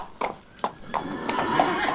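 A horse neighs in a series of several whinnies, fairly close, with faint hoof clip-clop and a steady background hum, and no talking.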